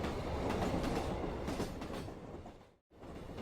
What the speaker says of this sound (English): We passed a Kintetsu train.